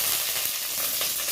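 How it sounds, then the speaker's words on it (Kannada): Mustard seeds and curry leaves hitting hot coconut oil, a brief bright hiss and crackle, close and steady for just over a second. "ಹಾಗೆ ಸಾಸಿವೆ ಹಾಕಿದ ಮೇಲೆ ಕರಿಬೇವು ಹಾಕಿಕೊಳ್ಳಿ."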